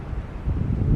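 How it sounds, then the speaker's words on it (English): Winter wind blowing steadily outdoors, giving a low rumbling rush with gusting noise that grows slightly stronger toward the end, no voices. "You can hear the wind."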